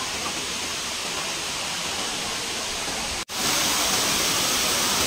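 Tinago Falls roars in a constant rush of white noise, cutting out for an instant before returning slightly louder.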